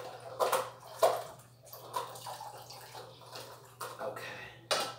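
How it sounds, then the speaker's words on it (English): Watermelon juice from a 10 lb melon is poured into a container, giving intermittent splashing and gurgling bursts at close range over a faint steady hum. "The sound of the pour."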